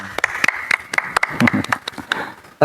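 Scattered handclaps ring out from a few people, a sparse, uneven burst of applause with a voice faintly mixed in.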